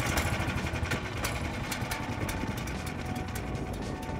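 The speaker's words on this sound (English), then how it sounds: "20 horsepower Lifan engine is installed here." A 20-horsepower Lifan petrol engine with CVT on a tracked snow scooter runs steadily nearby with a buzzing, slightly uneven idle, continuous throughout without speech.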